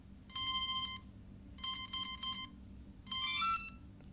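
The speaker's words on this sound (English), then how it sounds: "After you hear that musical tone there" Three short electronic musical tone sequences from a CX-20 drone's APM flight controller, bright and melodic, each about half a second to a second long, separated by brief pauses over a low background hum.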